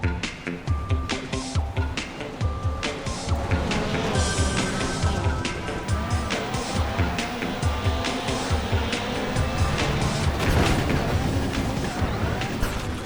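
Cars roaring off the line at a race start in Beetle Adventure Racing, with a buzzing engine drone and repeated rhythmic pulses, steady and loud, mixed with music and game effects.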